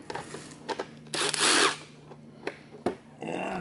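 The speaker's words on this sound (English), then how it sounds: "And the drill." A power drill whirs in short bursts, one longer spin in the middle, drilling for pop rivets on a Suzuki tank, with a few clicks and taps of handling between runs.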